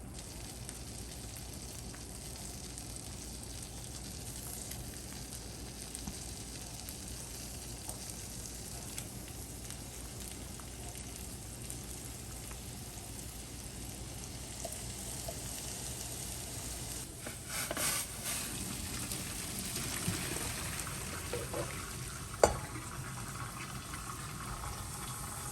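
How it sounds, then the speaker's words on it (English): Butter melting in a cast iron skillet gives a soft, steady sizzle and faint crackle, low and continuous with a few small pops near the end, no talking. "we're just starting by putting some butter down in our cast iron skillet"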